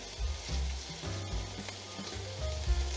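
Onions frying in a pan beside beef, giving a steady, moderately quiet sizzle with occasional soft pops and low rumbles.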